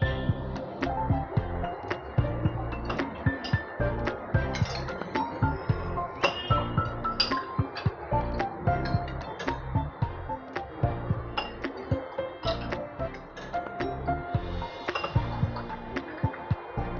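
Cold paan sharbat being served into glasses, with repeated clear clinks of glass and pouring liquid, loud and close, in an irregular rhythm throughout.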